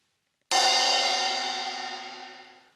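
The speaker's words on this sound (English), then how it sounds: "A cymbal." A cymbal is struck once with a sharp crash, then rings on in a bright, shimmering wash that slowly fades.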